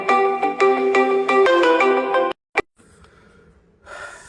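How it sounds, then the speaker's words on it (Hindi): An incoming call rings on a phone as a bright melodic ringtone with a quick run of chiming notes lasting about two seconds, then stopping abruptly, followed by a short breath and quiet. "एक फ़ोन आ गया था, इमरजेंसी।"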